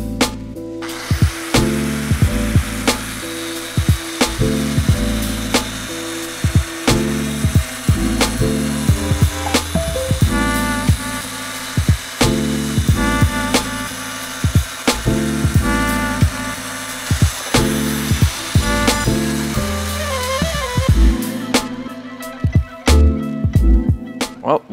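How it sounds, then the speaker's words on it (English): A power tool cuts through the bumper bracket on a 2022+ Toyota Tundra during a hybrid bumper install, a loud continuous grinding whine broken by repeated sharp dropouts and restarts, close up throughout. "So we're going to go ahead and cut this off, get the bottom piece out of our way"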